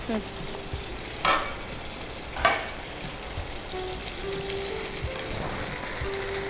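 Boiled jackfruit seeds stir-fried with chagate greens, a low steady sizzle punctuated by a couple of spatula scrapes and faint clatter, no speech.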